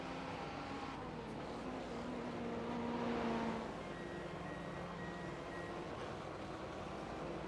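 GT3 race cars in the iRacing sim at Oulton Park roar past on the start-finish straight into turn 1, a steady, loud engine drone with a rising pass near the middle, no talk over it.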